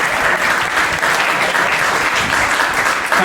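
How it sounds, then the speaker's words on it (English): Crowd applause at a Windrush community conference welcoming the host, Nigel Guy MBE: a sustained, even roar of many people clapping, loud and continuous with no break. "Give him a round of applause."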